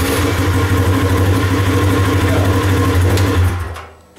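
A pump runs steadily on a machine after a voltage regulator relocation, a loud continuous motorized hum with a fixed low drone, cutting off near the end and fading quickly to quiet.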